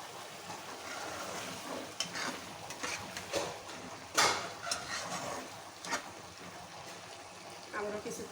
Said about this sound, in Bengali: হালকা করে নেড়ে নেব।